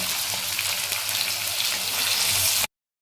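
Bell pepper, carrots and beans sizzle in a hot pan for a soybean pulao, a loud, steady hiss of frying close by that cuts off abruptly into silence.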